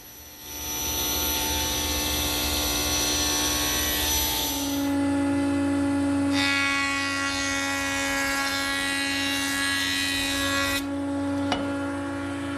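A table saw slices a taper along a square table leg blank, giving a loud, steady high whine as the blade bites through the wood for several seconds, then a pitch shift as the cut finishes.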